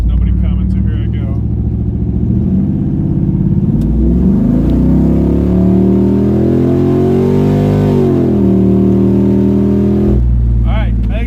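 A stock LT1 car accelerates hard, its loud, close engine climbing steadily in pitch to about 6,000 RPM before the revs drop sharply at the gear shift.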